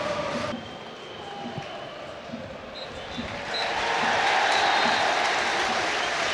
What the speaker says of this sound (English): The roar from the Riverside crowd tells you the story